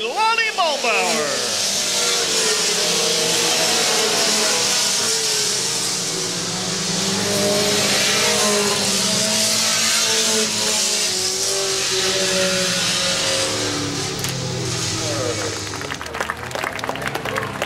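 Modified race cars roar loudly around a dirt oval track as the winner takes the checkered flag, engines droning and sweeping past the crowd while an announcer talks over them.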